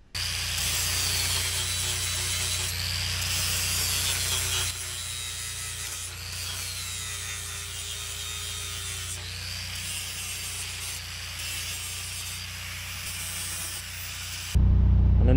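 Grinding or sanding tool deburring and smoothing the cut edges of steel parts for a custom backhoe upgrade, a steady, loud abrasive rasp running continuously throughout with slight shifts in tone as pressure changes.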